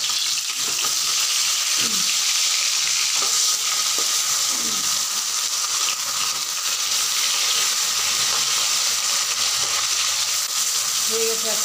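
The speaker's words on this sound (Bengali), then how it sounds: "এবার আর এক পাশে লাল করে ভেজে নেব।" Bata fish sizzles loudly in oil as pieces are turned and stirred in a pan, a continuous close frying hiss broken by a few scraping utensil strokes.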